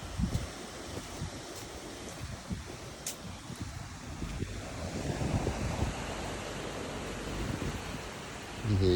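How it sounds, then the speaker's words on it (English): Waves wash steadily onto a beach at the foot of garden stairs on a coastline, a broad, continuous surf roar with some wind noise. It builds slightly toward the end, with no talking. "And here you go, my beautiful beach."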